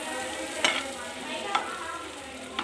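Large-cut onions frying in a pan, a steady soft sizzle broken by a few sharp stirring clinks about a second apart, close and moderately loud with no voices.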